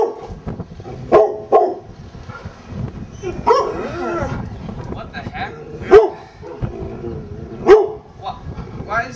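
Guard dogs barking in a scene set in a World War II camp: several sharp barks come in scattered bursts at mid distance, mixed with shouting and talk.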